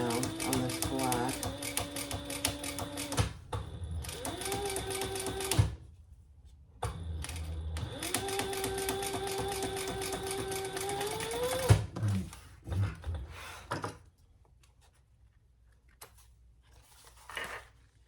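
Sewing machine top stitching a lining piece onto black fabric for a zippered triple sling bag, running in long steady bursts with short pauses between, then quieter handling noise at the end.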